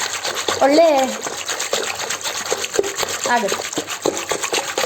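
Buttermilk is churned by hand to make butter for desi ghee, giving liquid sloshing and stirring sounds in an irregular rhythm while someone speaks over them.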